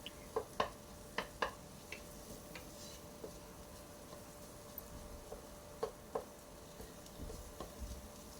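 A spatula scrapes and taps in a pan while an onion, tomato and green chili masala is sautéed down to a paste, with a soft steady sizzle and scattered sharp clicks of metal on the pan, no one talking.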